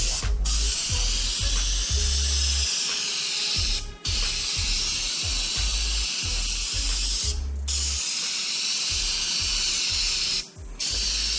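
Spray gun coating a Camaro spoiler with overlapping passes: a steady loud hiss in repeated bursts with brief breaks, alongside a low rhythmic mechanical clatter.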